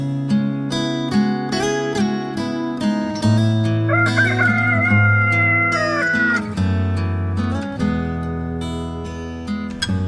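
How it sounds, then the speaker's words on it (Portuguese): A rooster crows in the middle of the clip, a wavering drawn-out call set against loud background music in an Easter story. "o galo canta a terceira vez"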